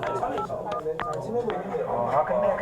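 Telephone keypad tones beep as buttons are pressed, including the pound key, during a recruit's weekend phone call at a military basic training unit; several short beeps sound under a narrating voice.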